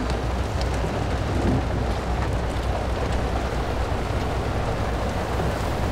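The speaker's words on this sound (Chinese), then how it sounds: "怎么就突然下雨了呢？" Sudden rain pours down in a loud, dense, unbroken hiss of heavy drops, with a low rumble beneath.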